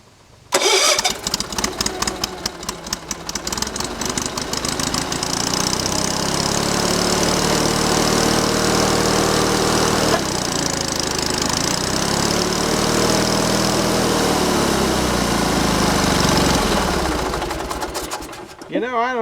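Small engine with freshly filled carburetor cranking to life, then running at a loud, steady, near idle for several seconds before cutting off.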